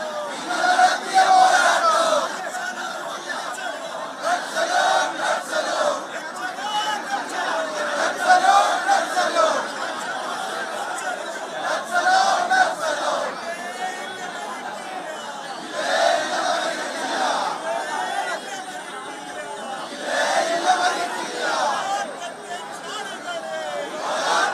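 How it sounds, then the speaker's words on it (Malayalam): A large crowd of mourners and supporters of V. S. Achuthanandan chants slogans in loud, repeated rhythmic waves, many voices shouting together at close range for the whole stretch. "അനുയായികൾ വിളിച്ചു പറയുകയാണ് വി എസിന് മരണമില്ല, വി എസിന് മരണമില്ല എന്ന്."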